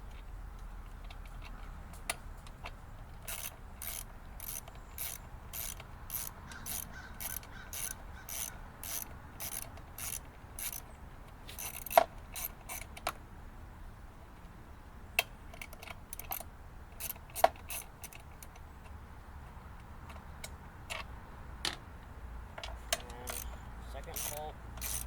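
A hand ratchet works loose three stubborn bolts on a carburetor cover, giving quiet, uneven bursts of clicking at close range over a low background, with brief sharper knocks in between.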